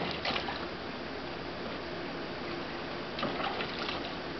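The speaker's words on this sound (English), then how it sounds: "You're kicking all the water out of the pool" An alpaca splashing and kicking water in a backyard pool on a hot Colorado day, a steady faint sloshing and churning with a couple of slightly louder splashes, no voices.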